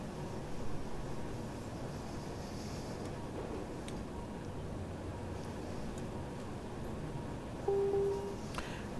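A short tonal chime sounds near the end of a run in Train Simulator aboard a RABe 526 train on the Lake Constance line, a brief clear note over the steady low rumble and rush of the moving train.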